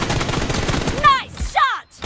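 Gunfire in the mobile battle royale game PUBG Mobile: a dense, continuous burst of rapid shots through the first second, then a couple of sharper reports with ringing, descending tails before a brief silence.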